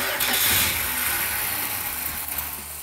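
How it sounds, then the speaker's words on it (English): A 1971 Dodge Demon 340 Six Pack engine turns over and catches, then settles into a steady, loud idle with a low rumble. "the engine sounded really good"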